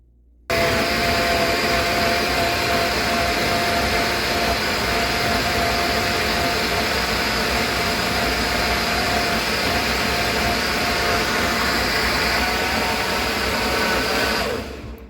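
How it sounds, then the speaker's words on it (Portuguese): Blender whirring steadily through a batch of passion fruit mousse, a loud continuous motor hum that starts abruptly and runs for about fourteen seconds before cutting off, with no voices. "E agora eu vou tampar o liquidificador e a gente vai bater essa mousse."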